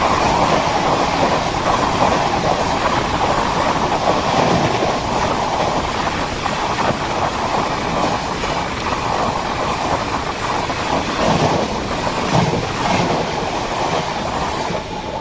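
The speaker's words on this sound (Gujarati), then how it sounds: "તો વેરાવળમાં ટ્રેન એન્ટર થઈ ગઈ છે" A passenger train rumbles steadily along the tracks close by as it enters Veraval station, a continuous heavy roar with faint rhythmic clatter and no voices.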